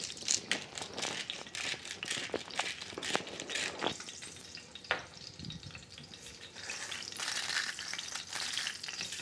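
Panko-crusted snapper pan-searing in a pan gives a steady close sizzle and crackle throughout, broken by a few sharp clinks and scrapes, with no talking.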